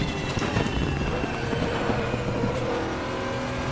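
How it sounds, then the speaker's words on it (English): A Nissan GTR GT1 race car at top speed on a long straight in the RaceRoom racing game, a dense, steady, roaring engine and wind wash filling the short stretch without talk. "So tremendous straight line speed in this GTR."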